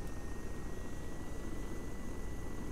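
Helicopter in the video game ARMA 3, a steady low rotor thrum with rhythmic pulsing and a faint high engine whine, moderately quiet and continuous with no talk over it.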